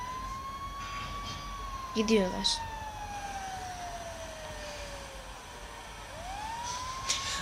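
A fire truck's wailing siren in the GTA 5 video game sweeps slowly down in pitch and rises again, heard at moderate distance while someone briefly speaks over it.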